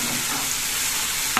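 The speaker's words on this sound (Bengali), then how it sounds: "ভালো মতন কষাবো, মশলাটা ভালো মতন ভাজা ভাজা হয়েছে" Spice paste of mustard and green chilli sizzles steadily as it is fried and stirred in a pan, a continuous close frying hiss with a brief scrape near the end.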